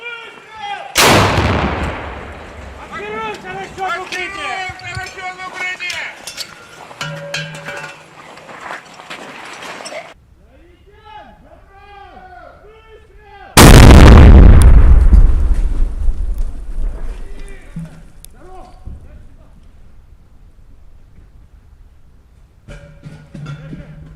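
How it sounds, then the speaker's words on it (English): Artillery fire on a front line: two massive close booms, each with a long rumbling decay, separated by quieter stretches of voices talking and distant rumble. "So you see the increase in the artillery fighting here on the front line."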